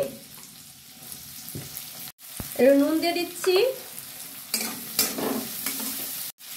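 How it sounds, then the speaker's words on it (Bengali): Garlic and onion fry in a pan for a chowmein dish, giving a close sizzle broken by spoon-scraping stirs. Someone speaks briefly over the cooking. "পেঁয়াজটা একটু হালকা করে একটু ভেজে নেব।"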